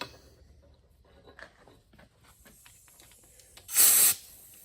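A short, sharp hiss of spray lube blown into a shifter cable, one burst near the end after quiet handling noises.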